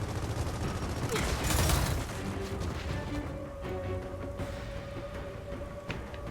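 Heavy turret gunfire in the Gears of War 4 video game, with a rapid burst of loud shots followed by rumbling impacts and lingering booms.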